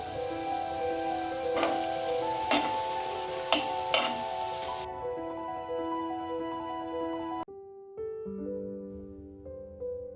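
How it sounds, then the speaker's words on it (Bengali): Four medium chopped onions fry into birista in hot oil with a bright, dense sizzle and a few stirring clacks, while music plays in the background and then continues on its own after the sizzle cuts out. "চার পিস মিডিয়াম সাইজ পেঁয়াজকে কুচিয়ে রেখেছিলাম বেরেস্তা বানাবার জন্য সেটাই করে নিচ্ছি"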